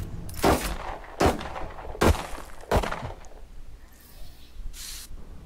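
Gunfire in a multiplayer video game: four loud, sharp shots spaced under a second apart, followed by a quieter fifth burst, with no talking during the firing.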